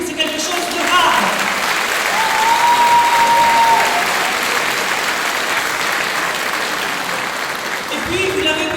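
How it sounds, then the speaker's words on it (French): Audience at a public meeting on urban renovation in the Berthe neighbourhood bursts into sustained applause, a dense, steady wash of many hands clapping at fairly close range for several seconds, with a few voices mixed in. "Vous pouvez applaudir, c'est quelque chose de rare."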